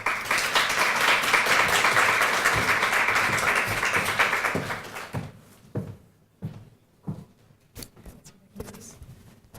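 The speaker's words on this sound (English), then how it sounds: "a round of applause" An audience at a talk on supporting aging women leaders claps in a steady, moderately loud round of applause that fades out halfway through, followed by scattered thumps and shuffling noises.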